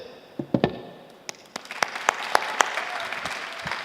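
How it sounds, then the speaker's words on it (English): An audience at a panel discussion on open innovation welcomes the panelists with scattered claps that swell into fuller applause, sharp individual hand claps standing out near the microphone. "So I need you guys to applause here."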